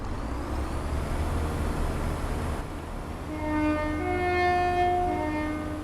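A ScotRail Class 170/4 Turbostar diesel multiple unit in Train Sim World on the Fife Circle Line gives a steady rumbling drone, then rises into a louder whining engine tone with layered harmonic pitches in the second half, alone with no talk.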